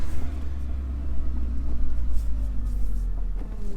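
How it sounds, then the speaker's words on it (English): A car's power steering runs as the engine idles nearby, producing a loud, steady low rumble with a faint whine riding on top, unbroken for the whole stretch. "Power steering's gone a bit quieter now."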